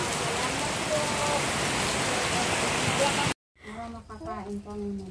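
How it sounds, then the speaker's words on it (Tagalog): Heavy rain pours down steadily in a loud, dense hiss that suddenly cuts off, after which people talk close by. "Grabe ang ulan."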